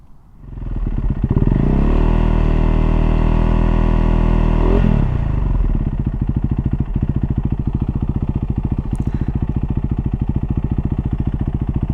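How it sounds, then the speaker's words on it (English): A motorcycle fitted with a FuelX Lite module cranks and fires up, revving loudly and steadily for a few seconds before settling into a rapid, even idle chatter, close by with no one talking. "I'm going to start the motorcycle"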